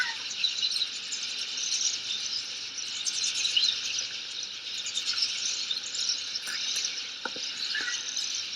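A large flock of redpolls, some 60 to 120 birds, chatters continuously in a winter backyard, a busy layer of high thin calls and twitters at moderate distance.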